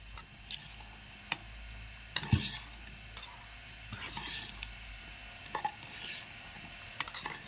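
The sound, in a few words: stirring chopped cucumber and green chillies in a pan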